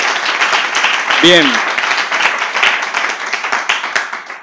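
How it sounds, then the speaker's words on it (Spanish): Applause from a conference audience honoring a guest speaker at a Spanish-language talk, dense steady clapping filling the room throughout, with a brief spoken word rising over it partway through. "Se ha merecido un aplauso, como poco."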